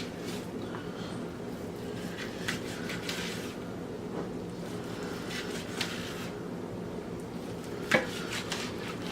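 A knife slices through a bacon weave wrapped meatloaf on a cutting board, with soft repeated cutting strokes, faint scraping and one sharper knock near the end, quiet and close.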